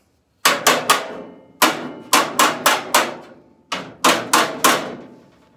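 Hammer and dolly work flattening auto body sheet metal on an old truck build, loud close metallic strikes in quick clusters of three or four with short pauses between, each ringing briefly, no talking.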